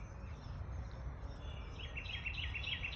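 Baby birds chirping from a nest, a faint cluster of high, rapid cheeps in the second half, over a steady low outdoor rumble.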